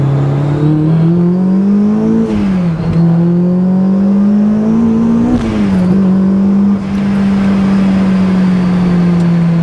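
A supercharged Honda S2000 accelerates short of wide-open throttle, a loud, steady engine drone heard from close by that climbs in pitch, dips briefly at two gear changes, then pulls on.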